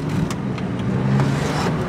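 A BMW X6 xDrive 40d diesel engine hums and pulls steadily as the vehicle accelerates, a loud continuous drone from close by.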